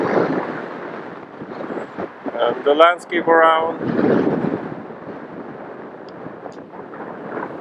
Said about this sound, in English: Oh, now it's very windy.